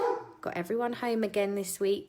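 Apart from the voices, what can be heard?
dogs barking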